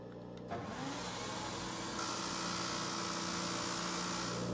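A Jim Byrnes 5-inch bench top disc sander with a shop vacuum hose attached for dust collection spins up after a brief pause, then runs in a steady, loud motor hum with broad airy suction hiss that thickens midway, with no talking.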